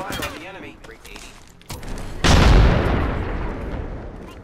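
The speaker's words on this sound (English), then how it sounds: "Opening fire on the enemy." Video game gunfire: a few sharp shots, then a sudden dense volley of rapid fire with a booming roar that rolls on and slowly fades, loud and close, over faint background game noise.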